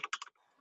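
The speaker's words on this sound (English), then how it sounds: "I apologize for having to listen to my smashing keyboard over here." Keys clatter on a computer keyboard in a burst of three or four quick, hard strikes up close, then trail off into quiet room noise during a software developers' online meeting.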